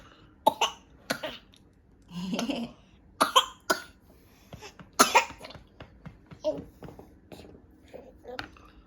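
A child coughs repeatedly in short, uneven bursts, close by, with brief vocal sounds between the coughs.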